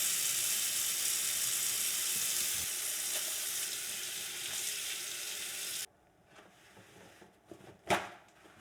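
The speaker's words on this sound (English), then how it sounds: "we always need to wash our hands first." Water runs steadily from a kitchen sink tap for hand washing before cooking, a broad hiss that cuts off abruptly, followed by a few small clunks and a brief splash.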